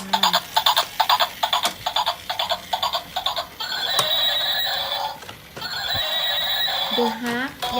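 A toy zebra lets out electronic horse neighs and whinnies with a rhythmic clip-clop beat, loud and close, in a continuous run.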